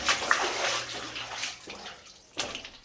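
Water sloshing and splashing in a flooded abandoned lead mine, close and echoing, in a few irregular surges with a sharper splash near the end.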